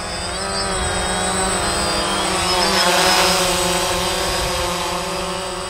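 A DJI Phantom quadcopter drone hovers and flies in windy conditions, a loud steady buzzing whine of rotors with wavering pitch that swells slightly midway, close by and continuous.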